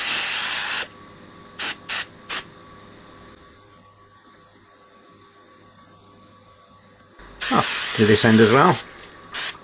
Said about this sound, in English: Let's put some foam cleaner on here, see if it drags all that muck down to the bottom.